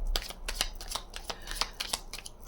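Tarot cards are shuffled by hand in a quick series of crisp riffling bursts, close up and fairly quiet, with no voice over them.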